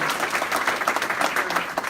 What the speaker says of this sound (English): A big round of applause for them and the great breakfast